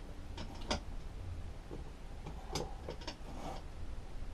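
The gears of a Kawasaki TF22 hedge cutter are turned slowly by hand with a screwdriver bit, giving soft, irregular mechanical clicks and creaks close by over a low background rumble.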